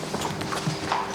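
Horse hooves clip-clop in a short, irregular run of soft knocks at close range, steady and moderately quiet, with no talk over them.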